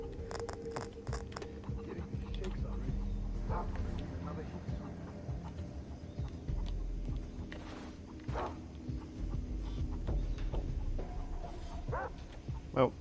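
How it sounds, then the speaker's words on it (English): Dog barking and whimpering in the video game Far Cry 3, mixed with chicken clucks and footsteps over a steady game soundscape, with someone talking over it. "Oh, there's the dog. Found you."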